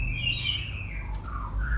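Newly hatched white-rumped shama (murai batu) chicks calling for food, thin high squeaky cheeps and rising calls, close and continuous, over a low steady hum.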